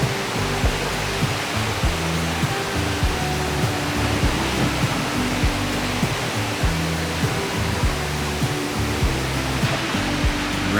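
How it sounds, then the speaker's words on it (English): Waterfalls in Tracy Arm Fjord, Alaska, heard from a cruise ship: a loud, continuous broad rushing roar of falling water, with a low, throbbing, rhythmic hum beneath it. "And these waterfalls are beautiful."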